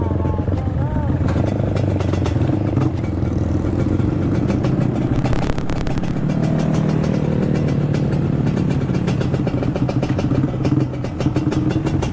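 A Yamaha motorcycle rides through heavy night traffic in Makassar with no headlight working, its engine droning steadily up close with clattering and passing vehicles around it, while a rider talks over the noise throughout.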